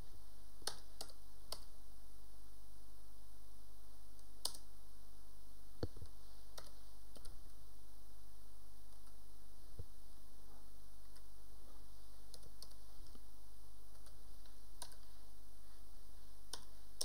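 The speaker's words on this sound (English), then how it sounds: "Okay, I'll type it in manually then." A computer keyboard typed on by hand during a live coding session, sparse separate key clicks scattered irregularly over a steady electrical hum and hiss, with no voices.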